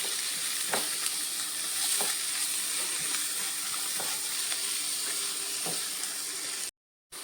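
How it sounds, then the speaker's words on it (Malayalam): Masala with plenty of onion, coriander and curry leaves sizzles steadily in a pan for mutton curry, while a spoon scrapes through it in regular strokes about once a second, then stops abruptly. "നല്ലോണം ഒന്ന് ഇളക്കി കൊടുക്കും."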